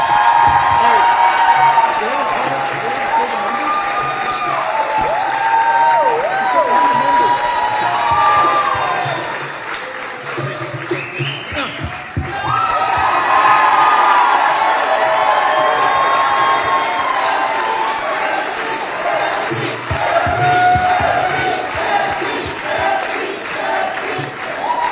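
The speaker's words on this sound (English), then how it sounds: "It is a loud crowd there tonight celebrating Lisa Brown" A loud election night crowd celebrating Lisa Brown cheers, shouts and claps continuously, with a brief lull in the middle before the roar swells again, voices mixed throughout.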